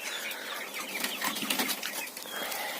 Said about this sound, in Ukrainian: Тут ці звірі в нас, перепелята.